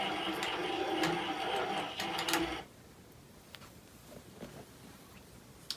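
A quilting machine runs in steady, dense mechanical stitching for about two and a half seconds, doing stitch-in-the-ditch work on a pieced quilt block, then stops abruptly, leaving a quiet room with faint scattered ticks.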